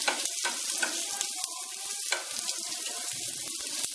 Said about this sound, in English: Blister the tomatillos.